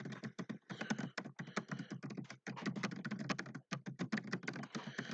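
Rapid, irregular tapping of fingers on a computer keyboard, close and fairly quiet, in bursts separated by short pauses, with no voices.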